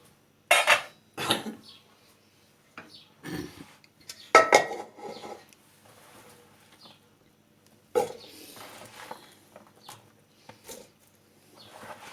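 Sharp clattering bursts of chopped peppers dropping into a metal pot, in a few separate pours with quieter rustling between them.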